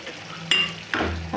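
Potatoes and green peas sizzling in a hot pan for aloo matar tarkari, with a spoon scraping and stirring in sharp, close strokes roughly every half second over a constant frying hiss.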